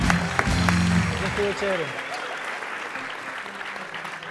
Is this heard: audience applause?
yes